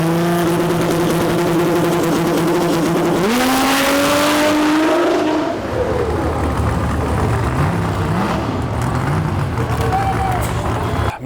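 A Cummins-powered Ram diesel drag-racing truck roars loud and close at a Lights Out 16 drag race, engine pitch climbing through shifts, then dropping to a lower, rougher rumble with tire noise as other engines idle nearby; a voice talks underneath.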